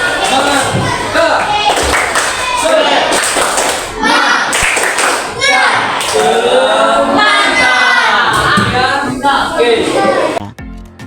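A class of children performs the tepuk semangka clapping routine, a rhythmic pattern of claps with chanting voices over it, loud and close throughout before ending abruptly.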